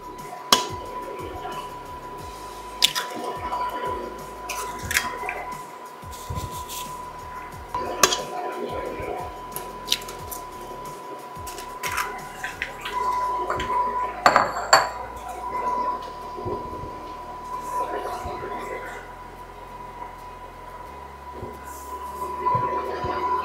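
Cheesecake batter for a burnt Basque cheesecake beaten in a bowl, a busy run of clinking utensil strikes and scraping against the bowl with a faint ringing tone underneath, irregular but continuous.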